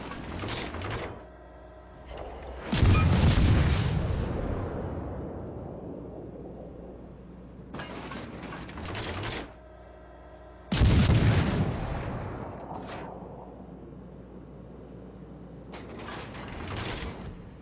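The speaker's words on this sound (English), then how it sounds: "Shells are landing everywhere except for on that cruiser." Naval gunfire in the World of Warships Legends video game, with two heavy booming salvos that each roll and decay over several seconds. Between them come clusters of sharper mechanical reports and clatter, loud and close, with no talk.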